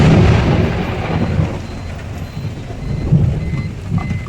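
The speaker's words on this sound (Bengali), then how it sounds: "আকাশ ডাকছে এত" Thunder rumbles through steady heavy rain on an open road, with loud low rolls swelling at the start and again near the end over a constant wash of falling rain.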